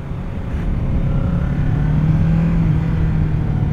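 Kawasaki Z motorcycle with a 48 PS engine pulling hard from low revs, a steady loud engine drone with a rising tone, continuous with no talking.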